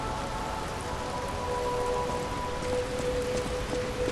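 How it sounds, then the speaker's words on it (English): Steady indoor rain inside an exhibition hall in the video game Lies of P, a dense, even hiss of drops falling on hard surfaces, constant and close throughout, with faint tonal hum beneath and no voices. "I don't even know why it's raining inside anyway."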